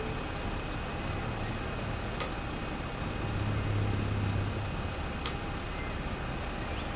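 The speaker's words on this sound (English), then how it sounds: "Doesn't that engine sound wonderful?" A brand-new bus in the game Bus Simulator 21 runs with a steady, low engine drone at a constant level, with two brief clicks partway through.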